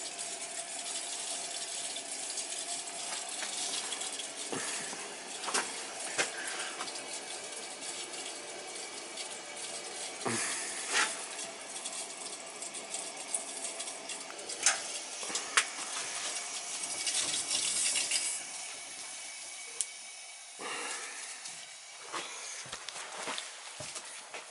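Water flows steadily through an old house's hydronic heating system with old radiators, a faint continuous rush broken by scattered clicks, knocks and a few louder taps.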